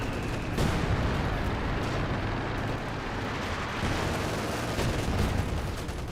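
Gunfire pouring into a structure in the World War II strategy game Company of Heroes 2, a dense, continuous roar of shots and blasts with a sharp crack early on, loud and unbroken, with no voices.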